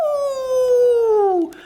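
A single long, loud howl, high and sliding slowly downward before breaking off, sounding like a voice imitating a wolf.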